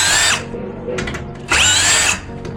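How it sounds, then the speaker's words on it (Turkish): Power drill working on glass balcony fittings during a repair, running in two loud high-pitched whirring bursts with a lower mechanical hum between them, close by. "Öncelikle şeyleri alabilmem için şunları sökmem gerekiyor."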